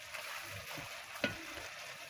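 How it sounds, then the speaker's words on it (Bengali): Soft scraping and faint sizzle as soybean chunks with salt, turmeric and green chili are stirred in a pan, quiet and close, with one sharper clink of the utensil partway through. "এবার একটু নাড়াচাড়া করে নিই"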